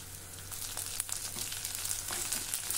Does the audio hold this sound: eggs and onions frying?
yes